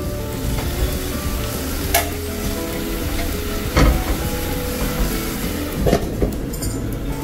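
Tender gongura leaves cooking in a covered pan, giving a steady moderate sizzle with a few soft knocks.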